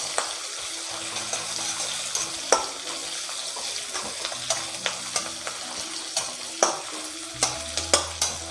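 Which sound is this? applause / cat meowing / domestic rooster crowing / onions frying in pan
onions frying in pan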